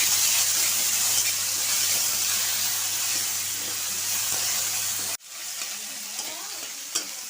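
Chopped tomato sizzles as it is stirred into hot oil tempered with white cumin seeds for a Bengali kohlrabi, potato and prawn curry. A loud, steady frying hiss drops abruptly, then carries on quieter with faint stirring scrapes.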